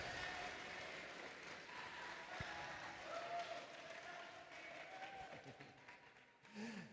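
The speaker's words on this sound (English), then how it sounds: "Please give a big round of applause for all the volunteers" Faint, distant crowd applause for volunteers at a FIRST Tech Challenge robotics league tournament in Northern Alberta, a continuous patter of clapping heard from far off in a large hall, with a few scattered louder knocks.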